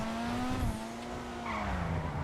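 A car skids during a race in GTA V, a sustained tire squeal with engine tone gliding steadily over a dense rumbling road noise, loud and continuous throughout.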